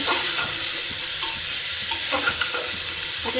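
Onion, garlic, pepper and green chillies fry in a pan with a loud, continuous sizzle, and occasional soft stirring knocks sound through it.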